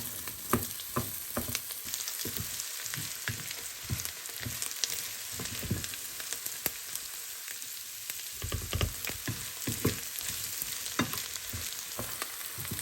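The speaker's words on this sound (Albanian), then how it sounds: "Ka vërdiset edhe orizi tash, se ku me qepë dhe mishën pulës për 3-4 minuta" Rice sautéing with onion and chicken in a pan, giving a constant soft frying hiss with scattered spatula scrapes and taps, fairly quiet and steady, no voices.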